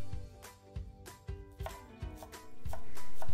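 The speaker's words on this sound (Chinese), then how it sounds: "香菜切细" A knife finely chops cilantro on a board while prepping Szechuan water-boiled beef, making a rapid run of crisp, close taps in an uneven rhythm that ends in a rising noise.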